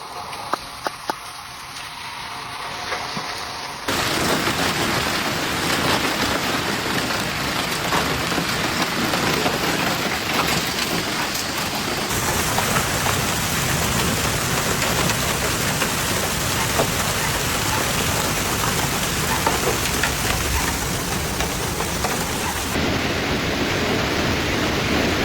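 Heavy rain pouring down in an Oklahoma hailstorm with strong winds, a loud dense hiss that starts abruptly after a quieter opening and holds steady for over twenty seconds.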